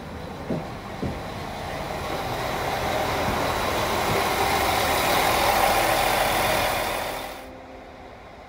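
A České dráhy passenger train pulls into a station platform in Karlovy Vary on a snowy day, its rumble swelling steadily and loudly before cutting off abruptly, with a couple of faint clunks at the start.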